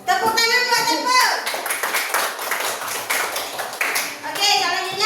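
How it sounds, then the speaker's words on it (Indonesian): Children in an Indonesian classroom clap together for a classmate after a magnet lesson presentation, a dense run of quick claps lasting several seconds, mixed with young voices chattering and shouting over it. "Tepuk tangan buat Temple."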